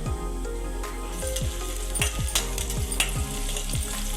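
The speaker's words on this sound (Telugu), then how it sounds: "ఉల్లిపాయ ఫ్రై అయిపోయింది కదా" Onion frying in a pan for a coconut and cluster bean curry, a dense steady sizzle with stirring scrapes and small pops throughout, close and moderately loud, no talk.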